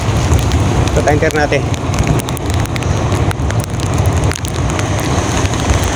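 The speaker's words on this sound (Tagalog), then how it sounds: "Ulan talaga." Steady rain pours down in Ternate, a dense, even hiss filling the whole stretch, with someone talking over it near the start.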